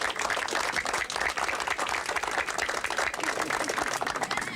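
Audience applause at a local township event fills the whole stretch, a dense, steady clapping from a crowd with no break.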